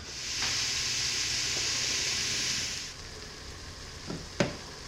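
Sausage meat squeezed from its casing fries in a soup pot, giving a steady, loud hiss that drops to a softer sizzle, then a couple of brief utensil clinks.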